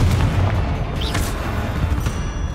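A Confringo fire spell goes off in the Hogwarts Legacy video game, a loud, dense blast with a rumbling low-end roar that fills the whole clip, plus a brief whistling flare near the middle and no voices.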